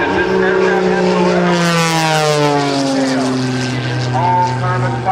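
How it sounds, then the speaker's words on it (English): Aerobatic propeller plane of all carbon fiber construction performing low-speed, high-torque passes at an airshow rehearsal, a loud buzzing engine drone whose pitch glides down as it passes close by, with a voice speaking over it. "That allows Sean to do some of the low-speed, high-torque flying that you're going to see throughout this morning's rehearsal"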